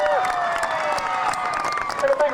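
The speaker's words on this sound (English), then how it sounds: "Big round of applause for Megan Wietrich." Applause from a crowd at a 2005 Fairfield High School homecoming pep rally in a gym, steady dense clapping with scattered cheers throughout.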